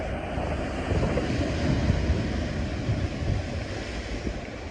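Ocean surf rolls against a rocky Hawaiian lava coastline, a steady loud wash of breaking water mixed with wind buffeting the microphone and no voices.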